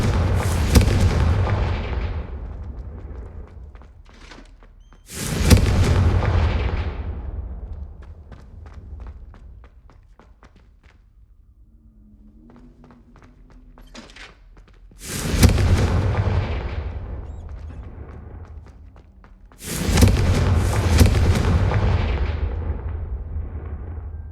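The Confringo fire spell in the video game Hogwarts Legacy erupts as four loud, booming blasts spaced several seconds apart, each with a long rumbling decay, with quieter footsteps and a faint tonal chime in between.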